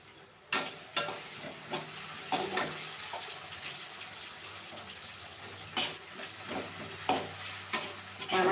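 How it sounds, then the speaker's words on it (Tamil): Onions sautéing in a pan, a steady background sizzle broken by repeated scraping strokes of a spoon or spatula. The clip is close and moderately loud, with no talking. "இந்த வெங்காயம் நல்லா வதங்கி விட்டது தக்காளியை சேர்த்துக்கிறோம்"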